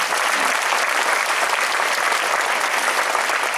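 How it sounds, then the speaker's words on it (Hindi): Dense, steady applause from an audience at a talk on environmentally friendly entrepreneurship, loud and continuous with no pause, filling the room without any voices on top. "तालियां"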